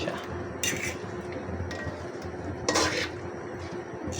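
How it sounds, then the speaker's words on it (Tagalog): Chicken Bicol Express being stirred in a pan, a utensil scraping and clinking against the metal in steady strokes with brief louder clatters, close and alone with no talk. "Haluin natin siya."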